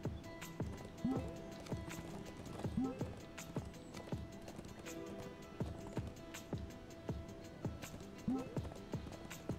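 Stallion in a video game trotting with steady clip-clop hoofbeats and occasional snorts or whinnies, close and moderately loud, with a faint voice in the background.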